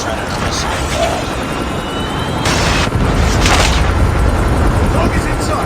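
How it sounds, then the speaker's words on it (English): A Predator missile strike booms in a military video game, with a sustained loud roar and rumble of explosions and aircraft noise. Game voice callouts are heard over it. "Friendly Predator missile inbound."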